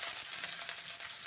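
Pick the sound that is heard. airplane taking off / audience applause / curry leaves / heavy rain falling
curry leaves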